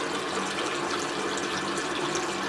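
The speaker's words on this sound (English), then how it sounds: "I'm going to let it fill up somewhat." Cold tap water runs steadily into a basin, a constant close splashing rush that fills the basin for soaking hair, with no talking over it.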